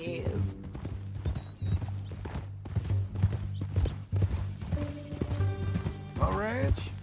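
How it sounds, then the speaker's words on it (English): Horse hooves clip-clopping in Red Dead Redemption 2, a series of close, uneven hoof strikes with a neigh or whinny near the end, over low game ambience. "Is that a new horse?"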